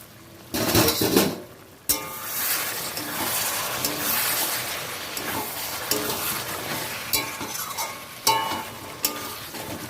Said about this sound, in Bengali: এবার আমি ঢাকাটা খুলে দেখি কি অবস্থা আছে